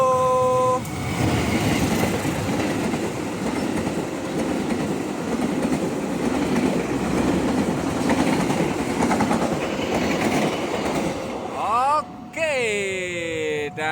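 Bengawan passenger train rumbling loudly and steadily past a level crossing for most of the stretch, wheels clattering, then a horn blast sounds near the end as the roar eases.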